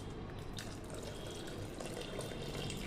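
Water drained from boiled drumstick pods is poured into a whisked kadhi mixture, a steady close liquid pour running throughout with no talking.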